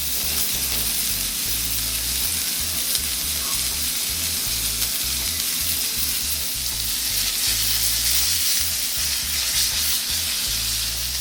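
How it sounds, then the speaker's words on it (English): A5 Japanese wagyu steak sizzling in herb butter with garlic and rosemary, a steady, dense crackling fry that stays loud and even throughout with a low bubbling undertone. "we're going to add a little butter, some herb butter, about a tablespoon of herb butter"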